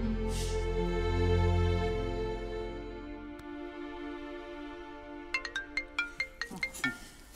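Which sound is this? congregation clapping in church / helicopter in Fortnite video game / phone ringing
phone ringing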